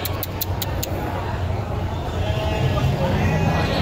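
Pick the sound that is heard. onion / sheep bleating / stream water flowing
sheep bleating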